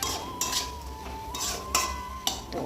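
A spoon stirs a meatless vegetable curry with ginger and cumin in a cooking pot. It makes several sharp metallic clinks and scrapes at an uneven pace over a steady low background, with no talking.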